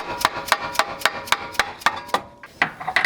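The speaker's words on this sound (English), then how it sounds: "I have a dead blow hammer that I'm going to use" A dead blow hammer striking wood about a dozen times in a steady rhythm, sharp and close, with a few quicker taps at the end.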